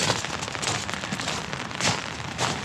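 Steady rain falls around a horse stable, a dense, close patter of drops with soft louder bursts, likely striking an umbrella, and no one talking.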